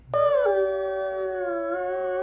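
An old dog lets out a single sustained howl, close and clear, holding a steady wavering tone after a sharp start.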